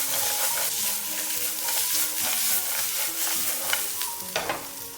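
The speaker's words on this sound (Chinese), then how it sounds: "继续用小火煸炒一下，把大蒜的香味给它炒出来" Pork belly and sliced garlic stir-fried in a wok over low heat: a steady soft sizzle with repeated scraping strokes of a spatula against the pan, close up and without talk.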